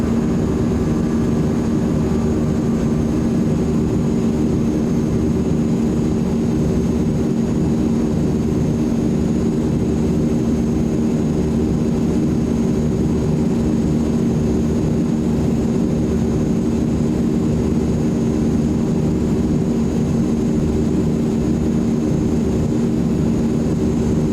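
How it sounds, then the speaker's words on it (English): Azurpoly C-160 transport plane in Microsoft Flight Simulator 2024 after takeoff with landing gear and flaps retracting, under a steady loud engine and propeller drone that stays even with no distinct mechanical clunks. "Gears coming up. Flaps coming up."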